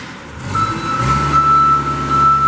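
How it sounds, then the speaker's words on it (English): A 2006 Princeton PB50 piggyback forklift sounds its backup alarm, a steady high electronic tone that holds continuously after a brief start, close and clear over the low rumble of the running engine. "Backup alarm"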